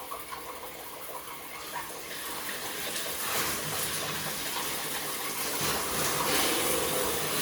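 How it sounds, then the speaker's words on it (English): A rain shower head fed by a 3/4 inch water line pours steady water, a broad continuous hiss that swells slightly louder partway through and holds without pause. "up for the rain shower."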